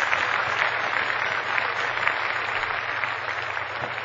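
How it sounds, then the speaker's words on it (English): Round of applause, a steady, even wash of clapping heard at moderate distance, continuing without a break throughout. "A very appropriate round of applause from Lillian."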